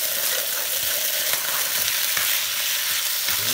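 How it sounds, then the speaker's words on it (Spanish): Pork meat frying in a pan, a steady loud hiss and crackle of sizzling oil with occasional stirring scrapes, close up and with no talking. "Y voy a dejar que se dore primero la carne, que quede bien cocinada, bien doradita"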